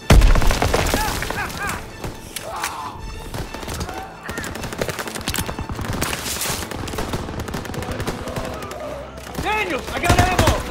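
Machine gun fire in a Call of Duty WW2 D-Day battle, dense, loud bursts and cracks running almost nonstop, with shouted voices heard through the barrage.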